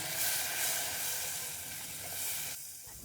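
Blended tomato paste frying in a pan with garlic-ginger paste for chicken bhuna masala, a steady close hiss and sizzle that runs evenly, then drops away sharply near the end.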